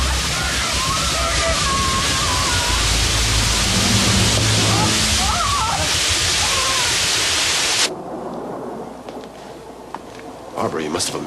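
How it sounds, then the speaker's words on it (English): Water rushes and sloshes into a room in a loud, continuous torrent that cuts off abruptly near the end, with voices heard over it. "Where's the water coming from?"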